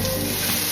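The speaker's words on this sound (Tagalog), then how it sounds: "bawang or garlic. Papabrownin lang natin ng konti." Garlic sizzles steadily as it browns in a very hot wok, a dense continuous frying hiss with no voices.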